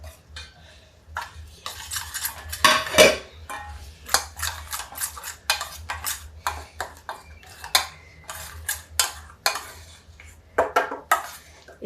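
A spoon stirs vegetable pulao mixed with besan in a metal pan, giving repeated close scraping and clinking strokes in an irregular rhythm over a low steady hum, with no talking.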